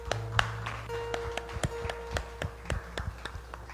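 A church congregation at a live worship event gives scattered hand claps, a dozen or so separate, uneven slaps over a soft, sustained musical tone in a quiet room.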